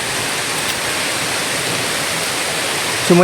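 Rain pours down outdoors in the afternoon, a dense, steady hiss that stays even and loud throughout with no let-up, plus a faint brief knock right at the end.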